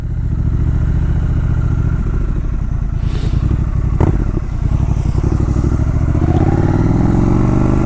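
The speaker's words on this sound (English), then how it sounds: "let you enjoy the exhaust note on these beautiful winding roads here in Janda Baik" A Triumph Scrambler 1200X motorcycle rides along winding roads in Janda Baik, Malaysia, its exhaust thrumming loud and close with a steady throbbing beat, briefly easing off before pulling harder again, with wind rushing over it.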